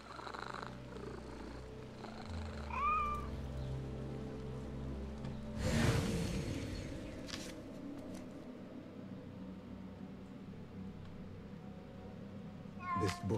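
A cat in the game Assassin's Creed Mirage purrs and gives a short meow, close and soft under a steady ambient bed, with a brief burst of noise midway.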